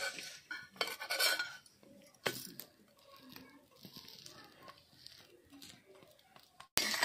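Egg bread being flipped and cooked in a pan, with scattered metallic clinks and scrapes of a utensil against the pan, fairly close but soft, in irregular bursts.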